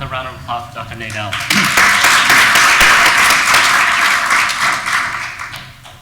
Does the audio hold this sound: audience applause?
yes